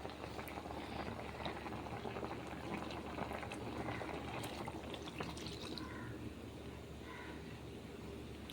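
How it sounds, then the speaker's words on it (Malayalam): Fish curry with coconut milk bubbling in a pot, a soft continuous simmer with fine popping and gurgling, quiet and steady throughout. "ചേർത്ത് ഒന്നും കൂടിയും അത് തിളച്ച് വരാനായിട്ട് വയ്ക്കും."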